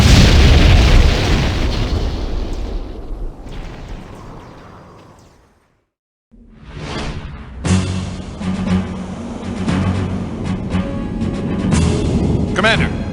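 A loud, rumbling explosion from the Septerra Core video game fades into near silence, then a crash-landing roar and debris noise build back up, sustained and heavy.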